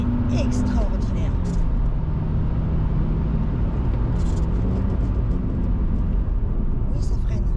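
An Audi RS2's five-cylinder engine drones steadily from inside the car while two people talk over it throughout, with the engine hum remaining constant beneath the voices.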